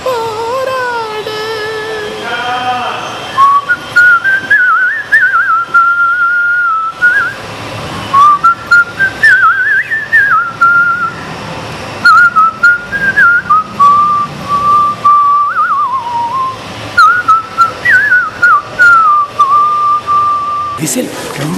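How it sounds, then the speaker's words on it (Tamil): A person whistles a melodic tune solo, clear and close, in phrases separated by short breaths, lasting about twenty seconds with no talking. "விசில் ரொம்ப அருமையான விஷயம், நம்ம மனசுக்கு பிடிச்ச விஷயம்."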